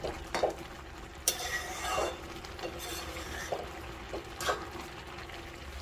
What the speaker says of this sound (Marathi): आता अजून थोडा वेळ आपण हे अशा प्रकारे परतून घ्यायचं आहे.